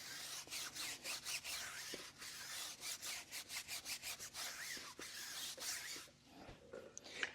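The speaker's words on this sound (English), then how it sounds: "I'm gonna go in and scrub this with our tire brush" Stiff tire brush scrubbing a car tire with cleaner, a steady run of rhythmic back-and-forth bristle strokes, close and fairly loud, ending with a few wet rinsing sounds.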